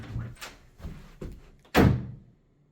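A door swings shut on its own and lands with a single loud, close thud, after a few quieter knocks and bumps.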